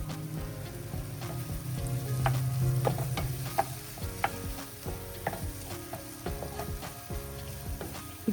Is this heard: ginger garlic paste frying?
yes